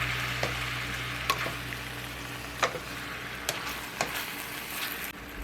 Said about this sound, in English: Now mix that all together and get it nice and sizzling.